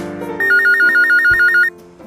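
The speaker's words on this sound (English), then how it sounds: "Jane, the telephone's ringing." A telephone rings in one loud, rapidly trilling burst over soft music, then stops.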